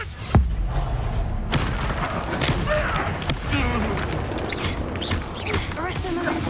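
Blasting spells burst as a series of sharp booms and thuds in the Hogwarts wizarding video game, mixed with mechanical clanks and creaks over a dense game soundscape.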